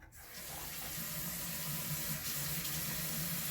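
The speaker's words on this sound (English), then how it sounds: "First, I gotta turn on the water." A water tap runs warm water into a sink for handwashing, a steady close hiss and splash that starts abruptly and continues evenly, with no talk.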